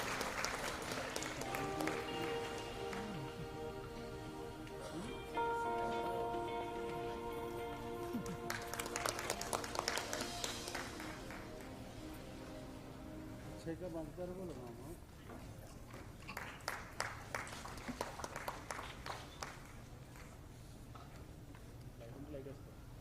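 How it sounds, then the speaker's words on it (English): Audience at a women's summit panel applauds the panelists, a dense burst of clapping that swells and fades over about twenty seconds, with background music and scattered talk. "Can we have a huge applause for them,"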